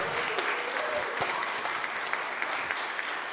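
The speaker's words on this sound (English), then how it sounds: "One more round of applause for Sue Ruby, everybody." A crowd claps steadily at a birthday celebration, sustained applause filling the room at a moderate level, with a few brief cheers mixed in.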